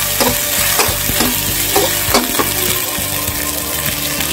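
Vegetables, including carrot, papaya and potato, are stir-frying with raw ginger in a pan, giving a steady close sizzle broken by repeated scraping strokes of a spatula.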